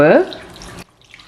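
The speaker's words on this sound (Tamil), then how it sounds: "இந்த தண்ணியை இதில் விடுங்க." Water, three cups or about 750 ml, is poured into a pot with sugar for Sri Lankan rice flour dodol, a short close splash and trickle that cuts off abruptly after under a second.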